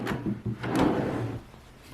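A wooden dresser drawer in a baby's nursery slides open with a rough, scraping rumble and a couple of soft knocks, close by and lasting under two seconds, with no speech.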